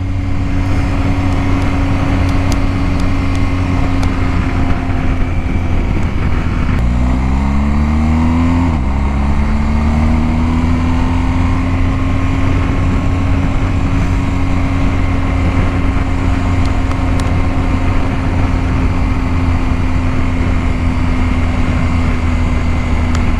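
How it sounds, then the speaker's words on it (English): A 2022 BMW R1250GS boxer-engine motorcycle drones steadily and loud while riding, with a smooth continuous tone and a brief shift in pitch partway through as the revs change. "Enjoy the amazing sound that this BMW makes"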